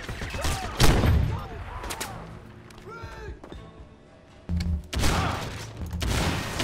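Shotgun gunfire in the first-person shooter Crysis, with loud booming blasts and a burst of rapid shots, followed by quieter game noise and then two more heavy blasts.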